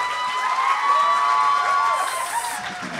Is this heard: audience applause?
yes